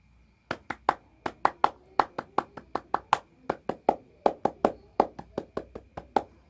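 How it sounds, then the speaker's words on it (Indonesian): Children doing the scout clap (tepuk pramuka) in unison, a quick, patterned run of sharp handclaps in bursts, clear and close, with no talking over it. "kita tutup dengan 2 kali tepuk pramuka"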